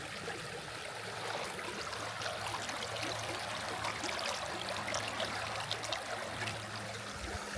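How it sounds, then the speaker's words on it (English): A proper river running over stones, heard from midstream as a steady, broad rushing and trickling wash that stays even and fairly close throughout, with no voices. "I'm in the middle of a river that I have to get across somehow. It's a proper river, it's not just a stream."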